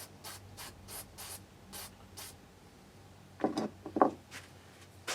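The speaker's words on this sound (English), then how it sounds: "I'm gonna hit that with some spray" DeoxIT contact cleaner sprayed at an input jack during a guitar setup: a string of short, hissing spray bursts at an even pace, followed by louder scraping and rubbing near the end.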